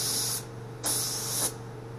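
Two bursts of a spray gun painting the door jambs of a custom PT Cruiser with the doors still on, a steady close hiss, a pause, then a second longer hiss over a low hum.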